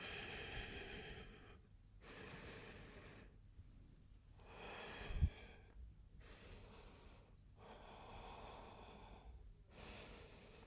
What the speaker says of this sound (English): Breathing deep here.